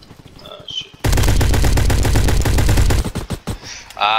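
Rapid automatic gunfire in a Roblox shooter game, a loud continuous burst of shots lasting about two seconds, followed by a few scattered single shots.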